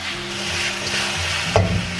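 Chicken feet seasoned with soy sauce are stir-fried in a wok, giving a quiet, steady sizzle with a few soft scraping stirs and one brief clack near the end.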